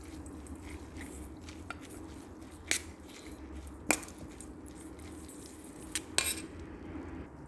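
Glass noodles with shrimp are stirred in a pan after sugar is added, giving quiet utensil scrapes and a few sharp clinks over a low background hum.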